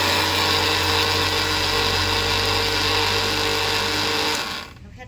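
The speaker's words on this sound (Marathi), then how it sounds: "ही मोहरी आपल्याला अशा प्रकारे बारीक करायची आहे." Electric grinder whirring steadily as it grinds mustard seeds for Gujarati mango pickle, a loud continuous motor drone that runs for over four seconds before cutting off abruptly, with no talking.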